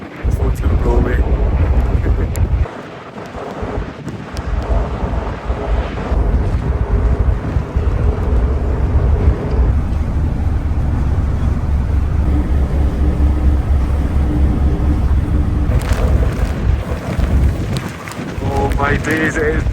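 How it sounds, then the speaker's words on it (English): Strong wind buffeting the microphone on a ferry deck on the Holyhead–Dublin crossing, a loud, constant roaring rumble with brief lulls, and the sea and vessel underneath. "My days, it is blowing a hoolie."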